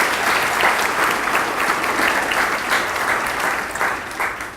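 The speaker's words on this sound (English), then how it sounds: "let's give Sam a round of applause for today" A ribbon-cutting audience applauds steadily and loudly at an indoor building opening, clapping sustained over the whole stretch with no voices on top.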